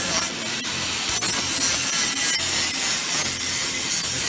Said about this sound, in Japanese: 先生がパイプ切ってくれよ。